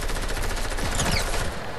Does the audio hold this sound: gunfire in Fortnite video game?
yes